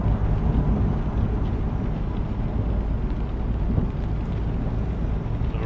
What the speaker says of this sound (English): Let's sit back and listen to this storm.